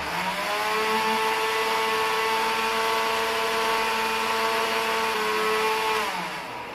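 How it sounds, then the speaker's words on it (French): Peanuts and water whirring in a blender for peanut milk, a loud steady motor drone held for several seconds before winding down, close by with no talk. "Donc je vais encore bien mélanger ça."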